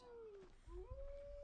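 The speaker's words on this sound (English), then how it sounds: "Why is there a wolf inside there?" A wolf in the Assassin's Creed Odyssey game gives a drawn-out howl that dips, breaks briefly, then rises into a second long wavering note, faint and set over a low rumbling game backdrop.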